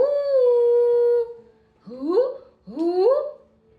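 A dog gives a long, steady howl, then two shorter rising yelping howls after a brief pause, loud and close with silence between the calls.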